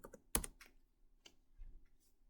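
Computer keyboard being typed on while entering a username and password, with one crisp key clack and a few softer scattered taps close by in a quiet room.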